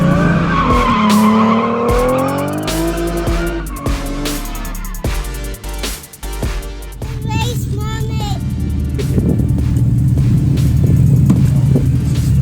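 A car drifting on a practice course, tires skidding and squealing under steady engine revving, loud and close, with a coach's voice and cheers talking over it throughout.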